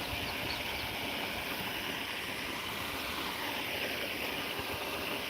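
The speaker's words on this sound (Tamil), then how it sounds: "தண்ணி ஓடிட்டு இருக்கு தெரியுதுன்னு நினைக்கிறேன்" Water runs steadily through a channel on a farm with coriander and bitter gourd plots, a continuous, even rushing hiss with no breaks, close by.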